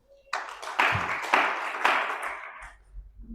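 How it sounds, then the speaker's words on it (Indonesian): Church congregation clapping hands together for God during a sermon, several strong bursts of clapping over about two seconds, fairly close, fading out at the end. "Tepuk tangan untuk Tuhan dulu."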